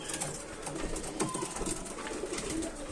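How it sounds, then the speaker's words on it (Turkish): Pigeons coo softly on a balcony, with a few low throaty calls repeating over a faint background rustle. "Burada balkonda yeni kuşlarımız var."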